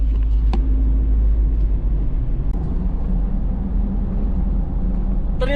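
Steady road noise and low engine rumble inside a 2012 Ford Everest TDCI riding on Delium Terra Raider A/T tires, a loud continuous drone without talk.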